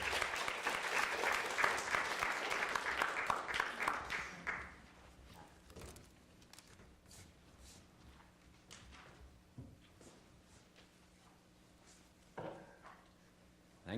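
An audience applauds to welcome a speaker at a talk on inequality. Dense, steady clapping fills the room for about four seconds, then fades to scattered claps and faint shuffling and thumps.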